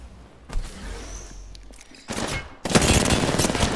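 Rapid gunfire from Apex Legends gameplay, with a muffled burst early on and then dense, loud bursts of shots near the end, dominating the mix.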